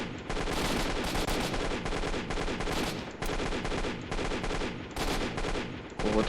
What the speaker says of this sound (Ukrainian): Взяв кулемет і вже.